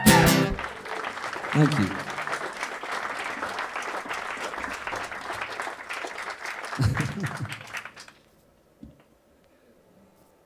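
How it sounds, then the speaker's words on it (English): Concert audience applauding a singer-songwriter's live set at a mill venue, steady broadband clapping for about eight seconds before fading out, with brief speech near the start and end. "Give yourselves a round of applause."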